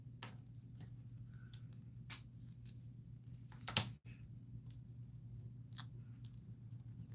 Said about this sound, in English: I use my cutter bees scissors to do this. So to cut out all these little things.